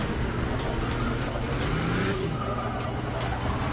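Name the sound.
car braking in Forza Motorsport 6 video game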